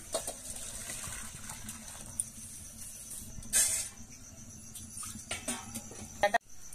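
Thin sugar syrup poured into a pan while making khir-based Gokul pitha, a soft steady liquid gush close by, with a brief louder splash near the middle and a few clinks toward the end.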